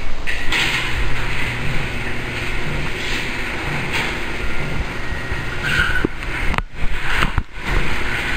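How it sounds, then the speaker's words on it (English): A residential garage door rumbles and grinds steadily as it opens, its motor humming close by for several seconds before a couple of brief clunks near the end. "Let's open the garage door again."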